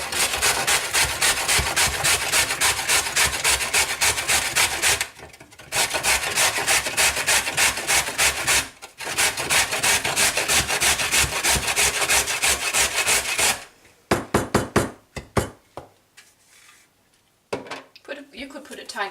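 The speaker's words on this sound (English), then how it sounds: "And here I have my carrot, and we want it very fine, so I'll just grate it." A carrot is grated finely against a metal grater in a home kitchen, with fast, rhythmic rasping strokes in long loud runs, brief pauses, then shorter scattered scrapes near the end.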